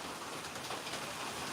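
Heavy rain pours down steadily, a dense even hiss of drops drumming on surfaces with no pauses or voices.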